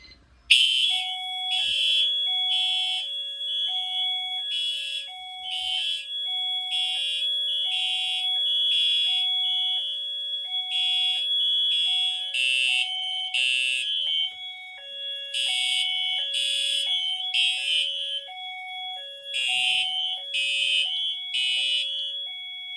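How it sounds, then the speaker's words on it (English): A Fire-Lite MS-9600UDLS fire alarm system blares continuously during a drill test, its electronic horn pulsing in a steady repeating pattern with a two-tone chime underneath, loud and close, no voices. "hold down the drill button for a few seconds, and the alarms will sound"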